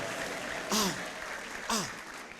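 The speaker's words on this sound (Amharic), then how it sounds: "እስቲ አንዴ ዝም ብላችሁ አጨብጭቡና አመሰግናለሁ በሉ።" A church congregation claps in thanks during worship, a steady patter of hands broken by two brief loud vocal exclamations.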